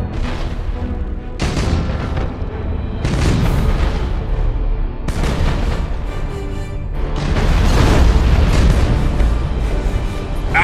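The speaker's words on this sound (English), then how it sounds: "Fire all weapons!" Warship broadside in Battlefleet Gothic: Armada, heavy booming weapon fire and rolling explosions in several loud overlapping waves that swell and crash repeatedly, with no talking.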